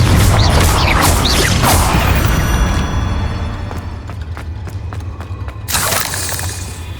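The Confringo explosive spell being cast in Hogwarts Legacy, a loud blast with shattering, crashing debris that fades into scattered clattering fragments before another burst near the end.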